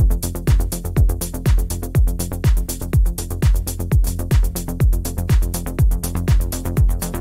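A loud electronic beat with punchy kicks and a deep, filtered, processed bass pulsing in steady rhythm without sidechain, crisp hi-hats ticking on top.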